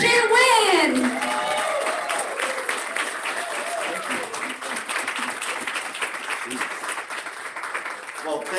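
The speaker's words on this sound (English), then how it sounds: "Please, let's give a round of applause to our Blue Diamond," Audience applause at a live event in Henderson, Nevada, steady clapping and some cheering following an announcement, continuing for several seconds after a brief voice at the start.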